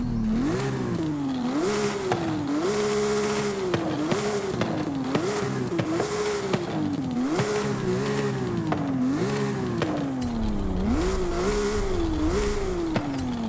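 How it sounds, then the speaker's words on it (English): A Porsche 992 911 GT3 RS with a flat-six engine and race exhausts roars steadily in the Forza Horizon 5 video game. Its note rises and drops in a regular rhythm as it works through the gears, loud and continuous. "I just love hearing the flat six roar"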